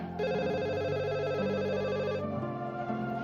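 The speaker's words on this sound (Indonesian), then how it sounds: "Tunggu ya, Mbak angkat telepon dulu ya." A telephone rings loudly with a steady electronic warbling tone for about two seconds, then cuts off, leaving quieter background sound in an indoor drama scene.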